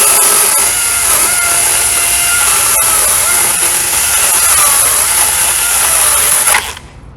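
A RYOBI battery chainsaw cuts a wedge into a tree with a loud, high, steady whine close by, then winds down sharply at the end.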